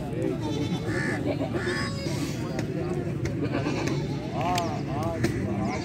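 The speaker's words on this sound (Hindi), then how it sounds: "ये भी बड़ी खूबसूरत बकरी है माशाल्लाह" Goats bleat repeatedly at the Faisalabad livestock market, where Beetal and Nagra milking does with kids are on sale. The wavering cries rise out of crowd noise and chatter, with someone talking over them.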